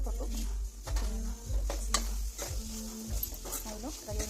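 Moong dal frying in oil in a pan gives a steady sizzle with stirring scrapes and a low rumble from the stove underneath.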